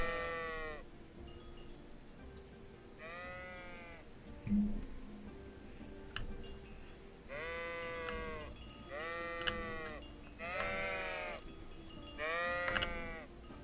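Sheep in the Kingdom Come: Deliverance video game bleat repeatedly, with one early call followed by a run of four or five spaced bleats over a low, steady ambient background.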